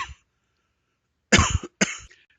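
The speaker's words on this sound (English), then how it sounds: "Pardon my coughing." Two quick, close coughs in a row come after a short silence.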